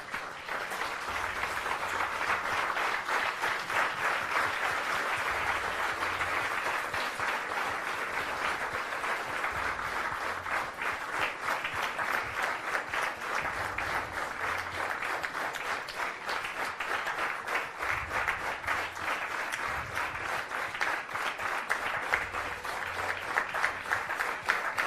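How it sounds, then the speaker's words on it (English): Sustained applause from a standing audience welcoming dignitaries at a Science & Spirituality event at ISKCON Bangalore, a dense, even roar of many clapping hands that carries on for the whole stretch. "Request the audience to stand and welcome our dignitaries with a round of applause."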